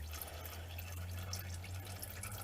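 Engine oil drains from the oil pan of a 2005 Chevy Cobalt with the 2.2 Ecotec engine, a steady close liquid trickle and splatter over a low hum, continuous and even throughout.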